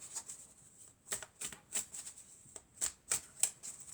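Tarot cards being shuffled, a quiet run of soft riffling flicks and snaps close by, with no voices.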